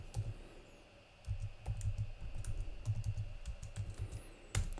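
Quiet bursts of key taps as a password is typed on a computer keyboard, irregular clusters of clicks with short pauses between them.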